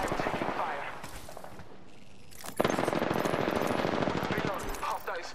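Rapid automatic gunfire from a video game shooter, bursts of dense machine-gun rattle running almost continuously, loud and close, with players talking over it.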